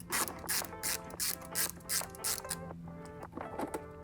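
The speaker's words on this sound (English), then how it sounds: "To loosen this hose clamp, we use a flathead screwdriver, or alternatively, you can use a 6mm socket." A flathead screwdriver works a hose clamp on the airbox of a BMW S54 engine, making close, rhythmic scraping and rasping strokes with brief metallic clicks between them.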